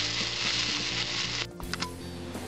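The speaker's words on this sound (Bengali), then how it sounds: "এবার আমি একটা চামচ ঘি দিয়ে দিচ্ছি এর মধ্যে। নাড়াচাড়া দেবো" Ghee sizzles loudly in a hot pan of drumstick flower ghonto, a steady hiss that breaks off into a few quick stirring scrapes and clinks near the end.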